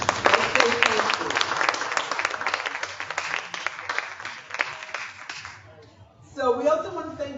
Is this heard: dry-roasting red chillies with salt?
no